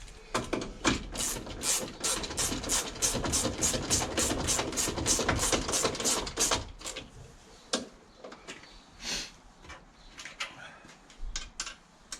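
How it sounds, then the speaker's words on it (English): A bolt is fitted and run in on the wing of a Vauxhall Royale coupe, heard as a fast, continuous buzzing rattle of a powered driver up close, then scattered quieter clicks and handling noises. "Let's quickly put one bolt in to hold it."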